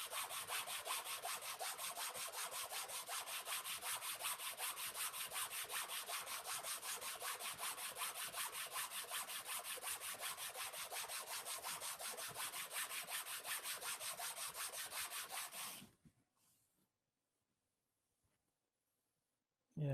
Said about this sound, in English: it takes time and Endgrain does not sand super fast